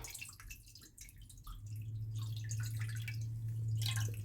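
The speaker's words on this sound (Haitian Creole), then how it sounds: "Et là, on a ajouté 3 tasses d'eau." Three cups of water are poured into a rinsed bowl for a natural home remedy, giving soft dripping and a building gurgling trickle, close and quiet, with no talking.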